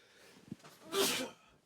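One faint sneeze with a short sniffing intake before it, heard alone in a quiet room.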